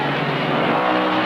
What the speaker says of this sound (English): It's more heavy traffic as the cars whiz by the slower machines.